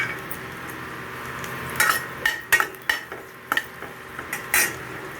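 Garlic, hing, dry red chillies and curry leaves fry in hot oil for a tempering, a soft steady sizzle under sharp clinks and scrapes of a spoon against the pan.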